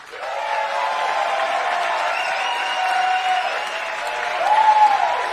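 Large rally crowd in Las Vegas applauds and cheers in a steady roar, building to a louder swell with shouts near the end.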